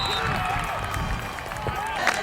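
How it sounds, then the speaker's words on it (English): A Bulldogs high school cheer squad and crowd cheer at a football game, a steady, dense roar of voices and clapping throughout, with someone talking over it. "That Bulldogs cheer squad"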